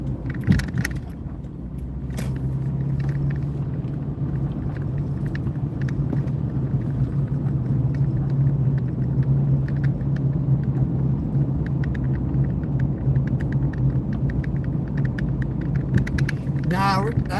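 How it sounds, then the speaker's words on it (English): Low steady rumble of a car engine heard from inside while driving, with a fault that makes it sound wrong; a constant droning hum runs throughout, with some clicks and a few rattles near the start. "This car don't sound right"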